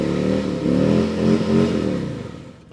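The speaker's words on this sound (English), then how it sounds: "We just saw Danny perform a clutchless shift and a one-handed burnout" Motorcycle fitted with a Rekluse automatic clutch revving hard during a one-handed burnout, a loud, close engine roar rising and falling in pitch for nearly three seconds before easing off.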